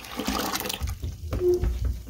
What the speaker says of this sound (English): bucket's full of water, and we'll just pour that stuff in there.